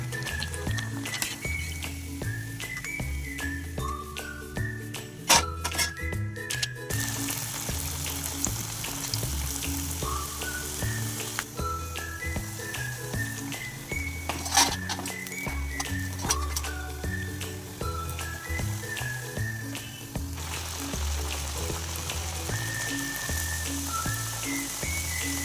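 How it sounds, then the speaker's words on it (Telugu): Bottle gourd vadas deep-frying in hot oil, a constant close bubbling sizzle running throughout with occasional sharper crackles and clinks of a utensil. "ఆయిల్లో వేసిన వెంటనే దాన్ని కదపకూడదు"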